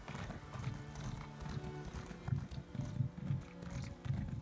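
Horse hooves gallop in Elder Scrolls Online as the rider holds sprint, a steady, close clip-clop rhythm of repeated low thuds running through the whole stretch without any talk.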